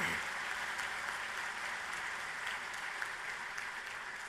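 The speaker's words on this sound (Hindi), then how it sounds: "उसमें तो ताली बजा सकते हैं।" Audience at a construction technology event in India breaking into sustained applause during a speech, a dense, even roar of clapping that holds steady throughout.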